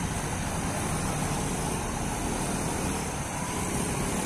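A tour bus rolls past a busy parking area on an afternoon roadside, its engine and tyre noise forming a steady, fairly loud rumble with no clear rise or fall, no voices over it.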